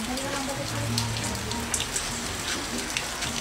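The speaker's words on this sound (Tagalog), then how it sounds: "sobrang lakas ng ulan" Heavy rain pours down steadily, a loud, close, dense hiss of drops drumming on a surface without letup.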